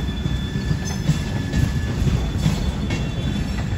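A Conrail freight train rolls past close by in a continuous heavy low rumble of wheels and cars, with faint squealing tones above and no talking.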